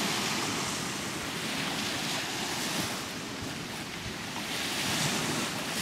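Steady evening surf washing onto a beach at Hel, Poland, with a constant broadband roar and gentle swells, with wind rushing across the microphone.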